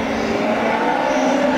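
A Honda CRX race car drives past at speed in a hill climb, its engine roaring loudly and steadily for a moment with no voices.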